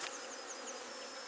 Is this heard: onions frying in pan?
no